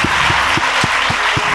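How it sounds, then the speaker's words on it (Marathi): An audience in a women's safety debate programme applauds loudly, with a broad wash of clapping and sharp, evenly spaced individual claps standing out about four times a second, close and continuous. "एकदा जरा जोरदार टाळ्या वाजवूयात ना त्याच्यासाठी"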